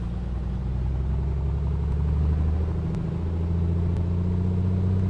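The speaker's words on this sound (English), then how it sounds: "Engine sounding okay." A Comanche 250 aircraft engine in a flight simulator game drones steadily with a deep, throaty hum, holding loud and constant through the whole stretch with no voices.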